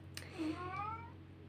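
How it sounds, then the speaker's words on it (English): A pet cat named Stefan gives a single short, close meow with a rising-falling pitch, fairly quiet over a low background hum. "That's Stefan, my cat."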